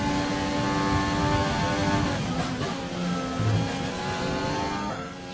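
Ferrari-powered Formula 1 cars racing in the F1 2020 video game: a loud, sustained high-pitched engine whine that holds steady, dips briefly and climbs again as the cars pass and accelerate.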